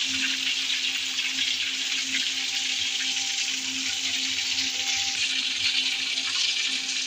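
Chicken pieces frying in oil in a pan, giving a steady, dense hiss of sizzling that stays close and even throughout, with no talk.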